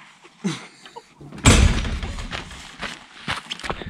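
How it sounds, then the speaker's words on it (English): A toilet door at a public restroom in Abel Tasman National Park, New Zealand, swings shut with one loud, close thud and rattle, followed by a few softer knocks and shuffling. "Oh, it stinks. Shut the door."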